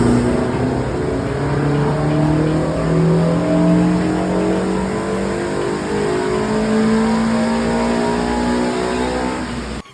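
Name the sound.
Renault 5 Campus with Clio F4R engine revving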